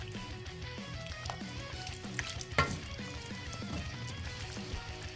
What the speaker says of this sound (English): we're just going to go ahead and stir this all up together